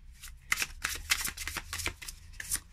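A deck of Baroque Tarot cards being shuffled by hand, a run of quick papery riffles and flutters close by, with no talking.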